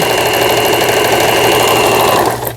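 A Brother household sewing machine runs a stitching test after repair, a close, loud, steady motorized whir that fades as the machine slows and stops at the very end.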